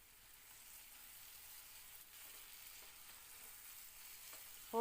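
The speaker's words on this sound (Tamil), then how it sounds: "இது ஒரு 2 நிமிஷம் இந்த எண்ணெயிலே வதக்கி விடுங்க." Eggplant sautéing in oil gives a quiet, steady sizzle, with a few soft stirring scrapes near the end.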